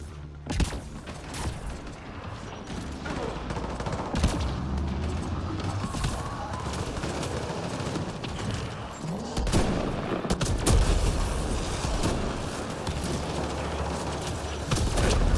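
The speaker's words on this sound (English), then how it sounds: "Incoming fire" Continuous gunfire in Mass Effect Andromeda multiplayer, dense overlapping shots and impacts forming a steady loud battle din throughout, with occasional heavier booms.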